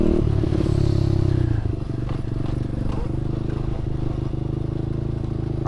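An SSR125 pit bike engine runs steadily, a loud close putter with rattling clatter, easing slightly after the first two seconds and continuing at a lower, even idle-like drone.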